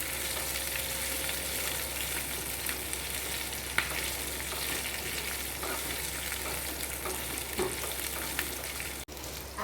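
Cashews and capsicum roast in a pan for Jain chhole, giving a steady, moderately loud sizzle with faint stirring clicks and no voices.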